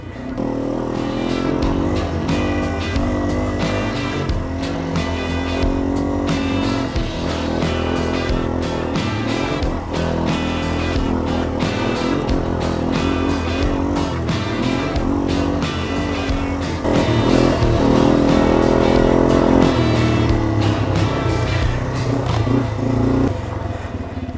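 Dual sport motorcycle riding on a road, a continuous loud engine drone with shifting pitch and steady wind rush, the note rising and swelling louder near the end.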